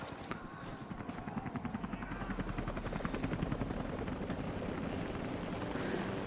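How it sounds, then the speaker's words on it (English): A helicopter in the video game Rise of the Tomb Raider keeps up a steady, rapid rotor chop that builds slightly, with a voice talking over it. "This helicopter's nearly chopped my head off."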